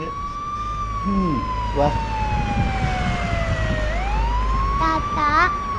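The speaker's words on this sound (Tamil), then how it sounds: "அதுவா, அது ஆம்புலன்ஸ் தங்கம்" An ambulance siren wails loudly in long rising and falling sweeps as the vehicle passes nearby, with traffic rumbling underneath and brief spoken voices over it.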